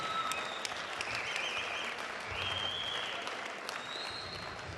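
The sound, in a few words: crowd applause for boxers after fight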